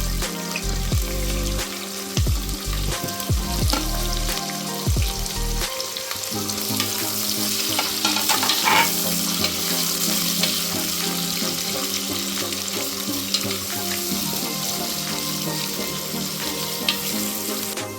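Onion sizzling in a pan while cooking mushroom biryani, a steady dense crackle that runs close and loud throughout, with low clunks and scraping near the start.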